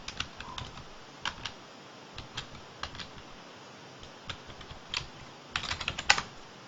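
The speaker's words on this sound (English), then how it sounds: "now I'm going to log in as root, and I have my password" Short bursts of key presses on a computer keyboard while a root password is entered at a server login, sparse clicks separated by pauses, then a quicker flurry of taps at the end.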